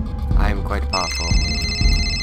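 In the video game Amnesia, a telephone rings with a sustained, bright electronic trill that starts partway through and continues steadily under someone talking and background game sounds.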